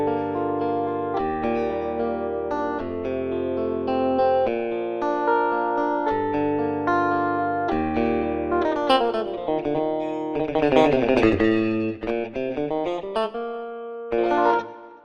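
An 8Dio electric guitar sample library plays a solo line with the amp switched off, giving a clean, dry signal: sustained single notes and pitch bends in steady succession, loud and close, with no talking.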